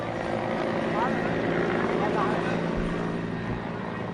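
A helicopter flies overhead above a rugby match between Air Force and Navy club teams, a steady broad engine and rotor drone under commentary voices throughout.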